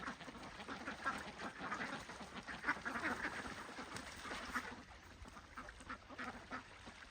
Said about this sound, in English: Oh no, the ducks are panicking.